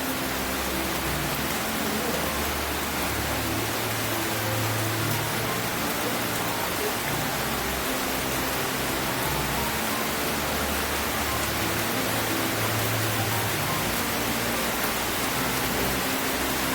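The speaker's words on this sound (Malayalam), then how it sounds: "അപ്പോഴത്തേക്ക് മഴ നന്നായിട്ട് പെയ്തുകൊണ്ട് നിൽക്കുകയാണ്." Heavy rain falls in wind as a dense, unbroken roar that stays loud and even throughout, with no voices.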